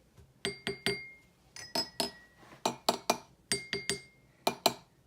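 A drinking glass is tapped repeatedly in quick clusters, each strike a bright, high-pitched ring that decays briefly, close and clear.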